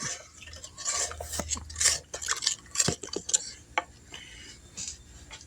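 Soup mix and ingredients being stirred together in a crockpot for pot roast, with close clinks and scrapes of a utensil against the pot coming in irregular bursts, no talking.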